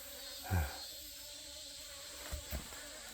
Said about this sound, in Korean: 이 망이 벌 드나드는데 애들이 조금 힘들어 합니다.